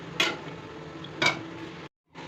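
A spoon stirs mutton curry and water in a metal pot, giving two distinct scraping clinks about a second apart against a quiet kitchen background.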